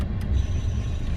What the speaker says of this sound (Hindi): तो जो एसी का कंप्रेसर है वो एक अजीब सी आवाज कर रहा है।